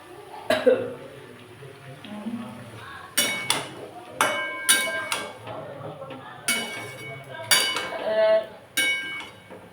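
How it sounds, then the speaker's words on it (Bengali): Pots and utensils clinking while potato and cauliflower curry cooks in a home kitchen, a series of sharp metallic knocks and scrapes at irregular intervals, with a cough and quiet talking in between. "এই দেখেন আলু ফুলকপি সবজি রান্না করছি"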